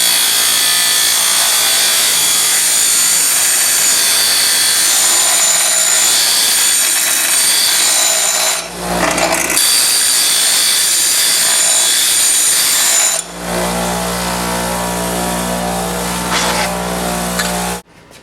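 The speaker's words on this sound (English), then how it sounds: "I'm just going to grind off the black area there so it's flat." An angle grinder grinding metal flat, a loud continuous high-pitched whine and rasp that dips briefly twice, then resumes steadily before stopping.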